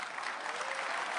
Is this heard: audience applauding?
yes